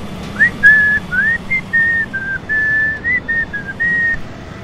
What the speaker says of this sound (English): I could just be whistling right now.